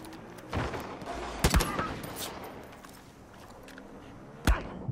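Enemy gunfire in Far Cry 5: scattered sharp shots and short bursts crack out at irregular intervals, a few loud and close, others fainter, over a noisy battle background.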